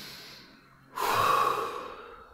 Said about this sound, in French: Prenez quelques bonnes respirations, quelques bonnes inspires,